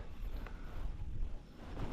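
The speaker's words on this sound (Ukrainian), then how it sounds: "Тут боковий вітер." Steady crosswind buffeting a microphone while pike fishing, low rumbling gusts with faint water noise in the background, continuous and fairly close.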